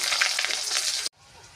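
Potatoes frying in hot oil give a steady, loud broadband sizzle that cuts off abruptly near the end, leaving a faint low hiss.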